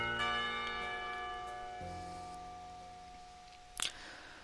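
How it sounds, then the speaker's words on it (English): School bells ringing in the visual novel game Katawa Shoujo, sustained tonal chimes that fade gradually, followed by a brief faint tap near the end. "Somewhere, the school bells ring and the last call of the day."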